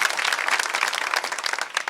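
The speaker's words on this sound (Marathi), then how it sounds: "याच्यासाठी एकदा टाळ्या वाजवा पहिले जोरात" A crowd claps loudly and quickly, the sharp, dense hand-claps forming a lively, slightly uneven rattle that carries on steadily throughout.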